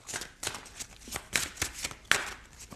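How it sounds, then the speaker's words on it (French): Tarot cards being shuffled by hand in a quiet room, a series of crisp riffling and flicking bursts with brief pauses between them. "Alors, on va voir avec les cartes du tarot."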